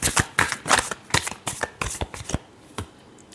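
Tarot cards shuffled by hand, a close series of quick riffling bursts in uneven rhythm, ending in a single soft card snap.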